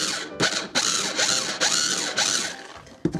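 Electric food chopper whirring through a chicken meatball mixture with breadcrumbs and green onion, loud and close, its grinding blade sound running in several bursts with brief pauses between.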